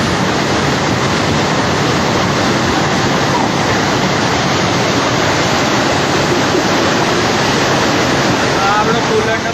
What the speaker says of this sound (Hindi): बस्ती के बीच से गुजरती विकराल बाढ़ ने लोगों को खौफ से भर दिया